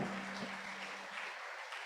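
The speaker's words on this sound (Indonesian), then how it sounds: "Tepuk tangan bagi Tuhan." A church congregation claps during a worship service, a brief, fairly soft wash of many hands with a low hum underneath, fading gradually.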